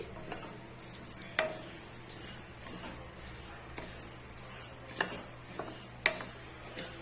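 Flaxseeds dry-roasting in a hot pan, with a light steady crackle and periodic scraping sounds as they are stirred, close and fairly quiet with no talking.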